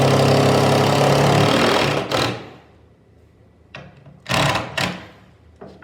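A power drill bores a hole into a wall stud, a loud steady whir for two seconds that stops, followed by a few shorter bursts of drilling with quiet pauses between.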